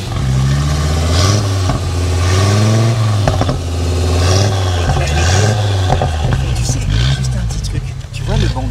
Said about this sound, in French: Cinq cylindres.